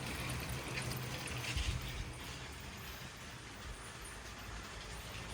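A LEGO model train runs through a yard layout onto the main line, its steady low rumble and faint rolling clatter continuing throughout with no voices.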